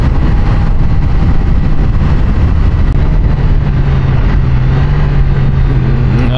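Triumph Daytona 660 motorcycle engine pulling hard at high RPM, a loud continuous droning roar with a rising tone near the end, heard close up with heavy wind noise.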